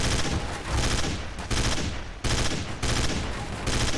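FAMAS burst fire in Counter-Strike: Source, with loud, dense volleys of gunfire rattling out in rapid bursts, interrupted by short pauses, all close and dominant.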